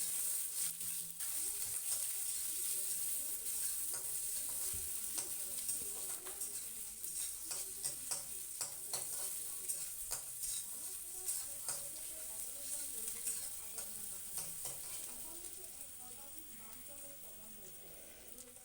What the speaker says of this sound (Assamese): এয়া কাটি থোৱা পিঁয়াজ আৰু জলকীয়াখিনি মই এতিয়া কেৰাহীত দি দিলোঁ